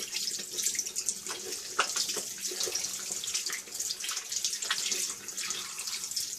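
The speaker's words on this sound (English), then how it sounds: "Open the tap" Tap water runs steadily into a sink as soap is rinsed off hands, a continuous hissing splash with shifting texture from hands moving under the stream, moderately close and without talk.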